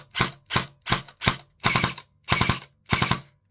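A Specna Arms X-Series FX 01 9mm airsoft gun test-fired: seven close, sharp mechanical shots, four single shots at a steady pace followed by three quick bursts.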